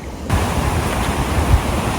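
Ocean waves break on a rocky beach near Cape Town, a loud, broad roar of surf that swells suddenly after a quieter start and stays dense, with gusty wind noise.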